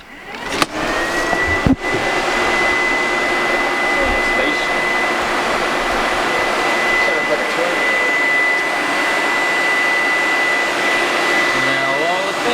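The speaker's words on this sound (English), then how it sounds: "Now all the fans are on." Electric radiator cooling fans run in a 1JZ-powered Toyota Supra drift car, a loud, steady broadband whoosh with a faint whine, starting after a couple of clicks and holding constant nearby.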